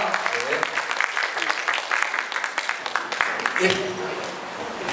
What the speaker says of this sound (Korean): 다 같이 우리 마주보면서 박수 치면서 마치도록 하겠습니다